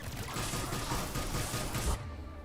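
Gunfire from Cerberus enemies in the video game Mass Effect 3, a dense continuous burst of rapid shots and clattering mechanical noise, loud and close, cutting off abruptly near the end.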